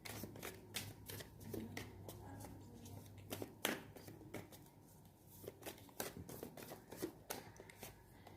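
Tarot cards are shuffled and drawn for an angel-guidance love reading, giving a steady run of crisp, close riffling snaps and slaps for several seconds over a low hum, with no one speaking.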